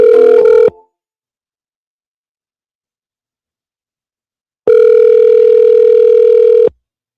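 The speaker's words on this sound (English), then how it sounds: "At the tone, please record your message." Voicemail recording tone on a phone line, a loud pure electronic beep that cuts off briefly, then after several seconds of silence a second, longer identical beep sounds alone.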